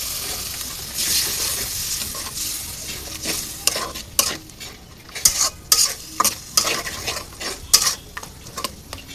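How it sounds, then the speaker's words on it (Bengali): Tehari spice masala with a little water being stirred and fried in a pan, a steady close sizzle broken by repeated scraping strokes of a spoon that grow sharper and more rhythmic toward the end. "সামান্য একটু পানি দিয়ে দেবেন, মশলাটা কষানো যেতে।"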